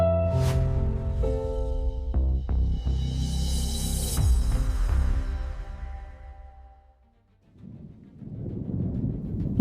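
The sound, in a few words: thunder rumbling during a rainstorm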